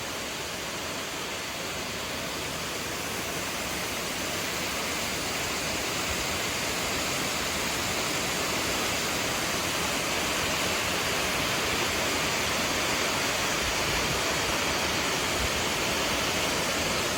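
Ramsey Cascades, a waterfall in the Smoky Mountains in December, pours in a steady, dense roar that stays loud and unbroken throughout, with no voices over it.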